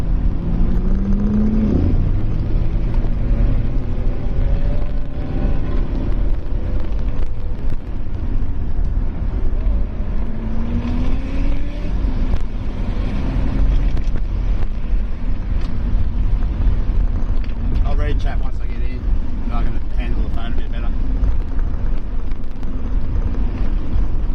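A car drives slowly home from the Lakeside racing track in Australia, a loud steady engine drone with low rumble and occasional gentle rises in revs, heard close throughout with no voices.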